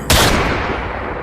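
A single loud gunshot blast from a weapon in a sci-fi audio drama, a sharp crack followed by a long rumbling decay, no talk over it.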